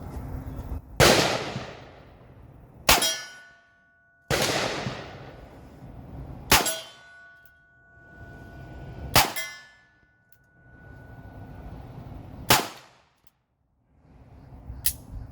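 Handgun fired one-handed with homemade rounds at an outdoor gun range, sharp loud reports spaced a couple of seconds apart, each followed by a decaying ring and metallic clink.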